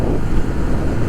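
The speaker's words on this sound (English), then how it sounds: "But super windy here in the valley still" Strong wind gusts buffet the microphone in a mountain valley, a steady loud rumble of wind noise with no voices.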